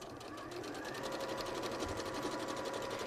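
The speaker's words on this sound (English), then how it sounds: "I'm just sewing those pieces together now to make the front of that cushion" Sewing machine stitching fabric cushion pieces together for a cushion front, a steady fast rattling hum running continuously, close and fairly loud, with faint talk underneath.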